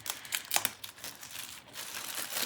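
Close, crisp crinkling of thin plastic in short irregular bursts, busiest early on and then settling into a softer, steady rustle.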